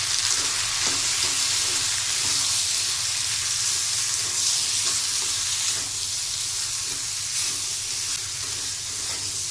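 A ground mustard and cumin paste with chili powder frying in a pan, a loud, steady hiss and sizzle that holds close and continuous, with faint stirring underneath.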